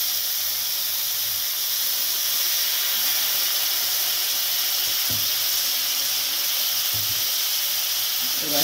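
Ground spices, red chilli powder and turmeric, frying in a hot pan with a splash of warm water for a Bengali rohu fish curry, a loud steady sizzle and hiss close by, with a couple of soft stirring knocks.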